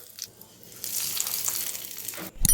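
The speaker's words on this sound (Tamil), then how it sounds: "இப்போ கடுகு வெடித்ததும் 2 வரமிளகாய், கொஞ்சமாக கருவேப்பிலை போட்டுட்டு ஸ்டவ்வை ஆஃப் பண்ணிடலாம்" Mustard seeds, two dried red chillies and curry leaves hit hot oil for a kadamba chutney tempering, giving a steady close crackling sizzle that swells after a quiet start and ends with a brief clatter.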